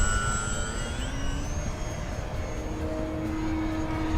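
FMS Maule 1500mm RC model airplane in flight, a faint steady electric whine drifting slightly in pitch, heard from a distance against outdoor background noise.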